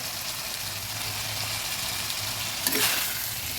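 Potatoes and flat beans stirred in a frying pan for a fish dish, a steady close sizzle with a low engine-like hum underneath and a brief scraping burst near the end.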